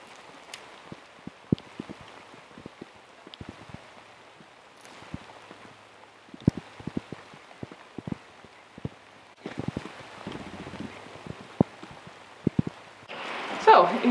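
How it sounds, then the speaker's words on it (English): Rain falling outdoors on a garden with green leaves, heard as scattered sharp drops tapping on surfaces over a soft steady hiss, with a louder burst of rustling near the end. "get inside out of the rain"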